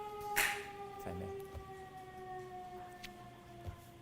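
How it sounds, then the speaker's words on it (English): A siren passes outside a courtroom, faint and distant with a steady sustained wail heard through the room, joined by a few small knocks and room noise. "I was just waiting for the siren"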